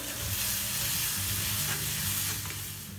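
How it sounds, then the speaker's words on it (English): A ground spice mixture sautéing in hot oil while being stirred, giving a steady, loud, close sizzle with scraping stirs and no voices. "into the same oil add the ground mixture and saute well"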